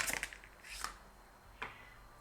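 A few quick papery riffles of tarot cards being shuffled, close up and fairly quiet, in short bursts with pauses between.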